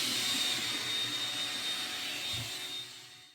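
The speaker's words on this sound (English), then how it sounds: "And she doesn't care for the vacuum." A household vacuum cleaner in an RV at a campground runs steadily with a loud, even whine and broadband roar, tailing off slightly at the end, with no talk over it.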